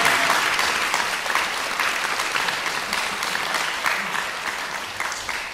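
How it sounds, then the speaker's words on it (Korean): Steady, full applause from a concert audience at an ensemble performance, an even wall of many hands clapping that holds for the whole stretch with no talking over it. "방금 그 박수는 저희를 위한 박수가 아니라 여러분들을 위한 박수로 제가 생각을 합니다"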